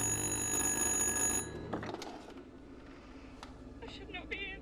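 Telephone ringing in the horror video game Little Hope, a loud bright electronic ring for about a second and a half before cutting off, followed by faint rustling and scattered clicks.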